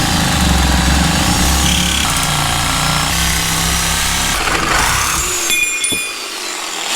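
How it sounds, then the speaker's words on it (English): A Sawzall reciprocating saw cuts into a Dodge Viper brake caliper bracket, a loud close buzzing grind of metal on metal that slows and stops near the end, with no talking. "I think I'm gonna try the Sawzall just from the top straight down, see how far I get"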